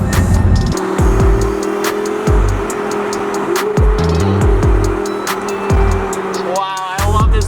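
A 1000hp twin-turbo Audi R8 with a dual-clutch transmission accelerates hard from inside the cabin, its engine note climbing loud and steady through several quick gear changes, with a brief lull near the end before it pulls again.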